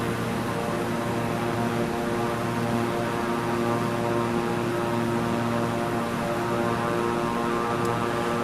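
A Beechcraft propeller aircraft in a flight simulator game, its engine drone steady and unbroken with a constant tonal buzz over airy noise, heard alone throughout.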